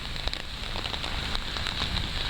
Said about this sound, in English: What on earth am I doing out here in the rain other than getting wet?